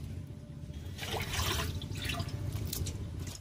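Water splashes and trickles as pakal fish are rubbed clean by hand to rinse off ash, a soft, close, continuous wet sloshing with no talk.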